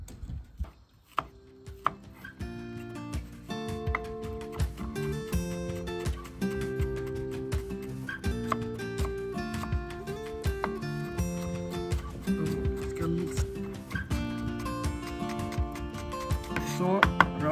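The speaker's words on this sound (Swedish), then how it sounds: "Vi börjar med att hacka lite schalottenlök och vitlök" A knife chops shallots and garlic on a cutting board in steady rapid strokes, close and distinct over faint background music.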